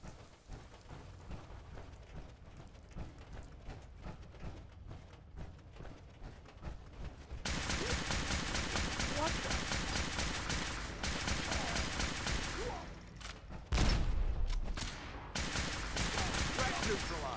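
Gunfire in the Fallout 4 video game, a dense crackling barrage that starts partway through and stays steady, with a sharper burst near the end, fairly faint overall.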